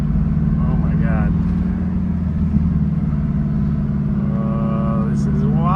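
A Ferrari F430 that has just had a manual gearbox swap drives along with a steady, loud engine drone close by. Someone talks over it throughout.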